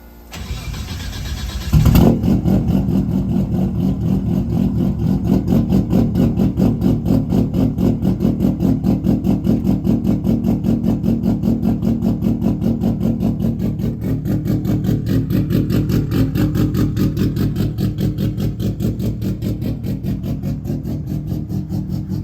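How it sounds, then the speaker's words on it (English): A Nissan RB25 straight-six cranks briefly and catches on a cold start, then settles into a loud, fast, even idle pulse that holds steady and close for about twenty seconds, with no talking. "Everyone seems to love the cold start on this thing"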